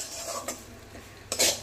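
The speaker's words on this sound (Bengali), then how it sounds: "সুজিটা দিয়ে সমানে কিন্তু নাড়তে হবে।" A spoon scrapes and clinks against a pan while semolina is stirred and roasted for a milk-based sweet, giving a few short close scraping strokes with a sharper burst near the end.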